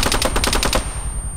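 Rapid automatic gunfire in the military shooter Arma 3, a dense burst of about eight close, loud shots in quick rhythm, then a lingering reverberant tail fading over the last half second.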